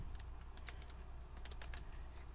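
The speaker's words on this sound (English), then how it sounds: "we're going to type it in spline" Quiet rapid clicking of keys on a computer keyboard as a name is typed in at a desk, a steady patter of a dozen or so keystrokes over a low background hum.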